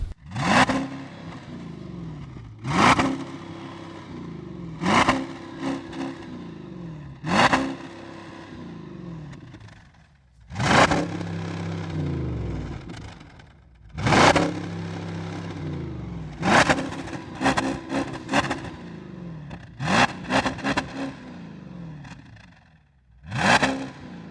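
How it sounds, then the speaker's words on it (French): An Audi A6 4.2 FSI V8 with twin large exhaust outlets revving repeatedly, sharp loud blips each rising and falling back to a low idle, about nine throttle stabs with pauses between, close and clear. "On va vous faire écouter le bruit que ça fait."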